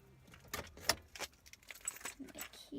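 A set of keys jangles in short, bright metallic bursts, close and fairly quiet, as belongings are gathered outside near a driveway and deck.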